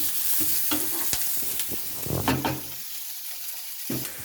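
Momo filling frying and being stirred in a pan, with onions sautéed until brownish; steady sizzle under repeated close scraping and stirring strokes, no talk.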